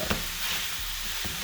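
Ground beef and bell peppers sizzle softly in a single pan, a steady low hiss with a faint stir or scrape near the start and another near the end, no voices.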